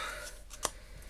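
Scissors snipping paper for a handmade mini album, one crisp close cut standing out over a soft steady background, with a couple of fainter snips around it.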